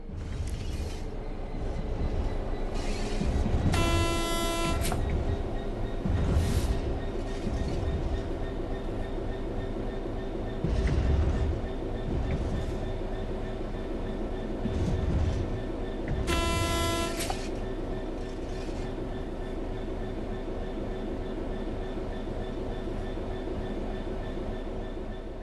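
A locomotive coasts on level track in Train Sim World 4, with a steady rumble and clanking wheel rhythm, broken by two loud horn blasts spaced well apart.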